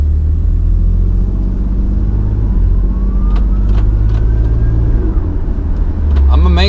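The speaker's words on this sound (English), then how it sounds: "I'm amazed on how loud is the stock turbo and this one. Turbos, actually." Toyota Aristo with a 2JZ twin-turbo engine on a test drive after a spark plug change for a misfire, giving a steady loud interior rumble with a rising turbo whine as it accelerates, under brief voices.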